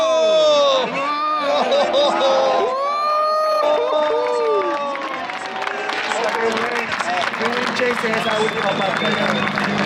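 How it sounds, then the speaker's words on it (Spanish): A crowd at a Drift Masters GP motorsport event claps and cheers loudly throughout, with whoops and shouting voices mixed into the steady roar of applause. "me encanta el público, cómo aplaude todo"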